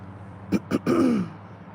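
Someone clears their throat: two short rough bursts followed by a longer gravelly rumble, close and fairly quiet.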